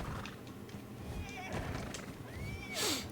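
A horse whinnies in the Valheim Ragnarok game, a rising neigh near the end over steady game ambience with faint hoof clatter.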